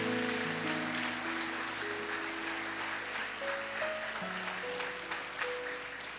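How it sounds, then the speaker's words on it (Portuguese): A church congregation applauds, a soft, dense patter of many hands heard at a distance over sustained keyboard notes, gradually tapering off. "Dê um aplauso para Jesus"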